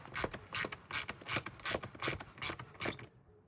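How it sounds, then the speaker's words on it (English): Screw being tightened snug on a car part, a close, steady ratcheting of about nine evenly spaced clicking bursts, each a short rasp, stopping abruptly at the end. "let's put our screws in there. So the top screw, make it snug."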